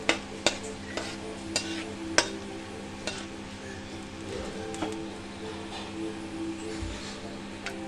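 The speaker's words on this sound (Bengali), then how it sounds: "এখানে এগুলো তেলের মধ্যে ছেড়ে দিলাম এটাকে কয়েক সেকেন্ড একটু ফ্রাই করে নিতে হবে" Whole spices crackling in hot oil for tempering a mutton curry, with soft continuous sizzling punctuated by sharp pops and taps of a utensil against the pan, fairly close and moderately quiet.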